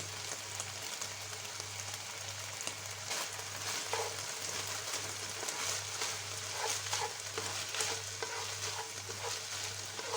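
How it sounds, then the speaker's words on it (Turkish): Steady sizzling and frying of onion, garlic and chicken in a pot, a dense crackling hiss with occasional stirring scrapes and no voices. "Soğan, sarımsak ve tavuk pembeleşinceye kadar kavurmaya devam ediyoruz."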